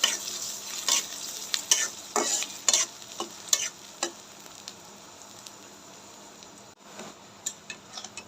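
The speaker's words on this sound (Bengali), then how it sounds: "পেঁয়াজটা লাল লাল করে ভাজা হয়ে গেছে" Chopped onions, ginger, garlic and green chillies frying in oil in a pan for egg chops, with a steady sizzle and repeated scraping stirs of a spatula, fairly close and with no talk.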